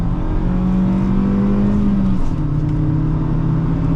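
A 2008 Honda Fit accelerating hard, engine drone climbing steadily in pitch before a brief gear change, then pulling again, loud and close from inside the cabin with no talking.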